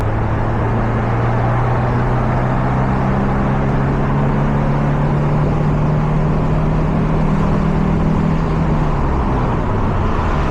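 A Subaru STI accelerating under boost: a loud, continuous engine roar, with a tone that climbs steadily for several seconds and then drops off near the end.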